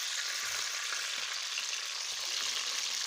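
A chopped onion fries in hot ghee for an aloo and masoor daal recipe, giving a loud, continuous close-up sizzle that hisses steadily throughout without talking.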